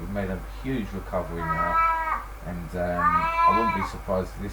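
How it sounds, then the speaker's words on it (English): A cat meows loudly at home, drawn-out wails like a crying baby, twice, with someone talking over and between the calls. "it sounds like a baby crying, but it's not a baby. That's actually a cat."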